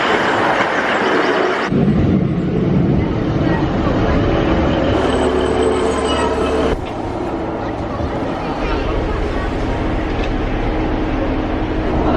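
A train rumbles steadily along the St Ives branch line to Lelant, with a continuous low drone and wheel noise, the sound shifting partway through as the ride carries on.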